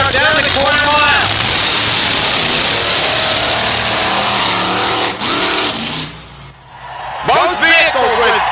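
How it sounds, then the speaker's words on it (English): A supercharged, fuel-injected big block Chevrolet engine mounted in a drag racing pickup truck roars loudly and continuously down the quarter mile, with an announcer talking over it and a brief dip near the end. "the little wind-up motor in the back, really cranking it out to get this pickup truck down the quarter mile"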